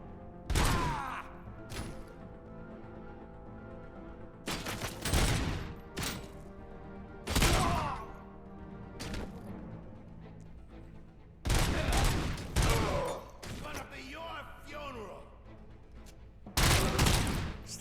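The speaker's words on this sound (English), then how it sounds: "Stop shooting at me, you're gonna kill us all." Bursts of gunfire from the game RoboCop: Rogue City, several loud volleys spaced apart with quieter gaps between, sharp reports over a steady low background hum.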